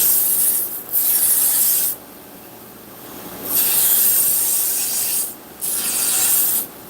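A belt grinder running a Cubitron abrasive belt grinds a knife blade in several passes, a loud hissing rasp that starts and stops in bursts over a steady motor hum.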